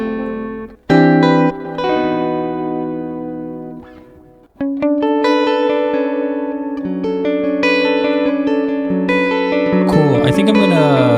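Ambient electric guitar through reverb and delay from a Mateus Asado preset on a Nano Cortex, sustained ringing chords and notes with long trailing echoes, loud and alone.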